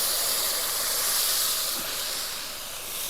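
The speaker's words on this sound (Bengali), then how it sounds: "এবার আমি এর মধ্যে পরিমাণ মতো জল দিয়ে দেবো" Water hits a pan of hot fried spices in a village kitchen for a fish curry with water lilies, giving a loud steady steam hiss that holds for about three seconds with no talk.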